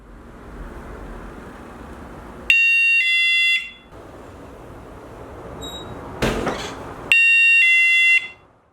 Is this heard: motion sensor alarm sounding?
yes